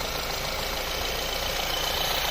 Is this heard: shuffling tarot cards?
no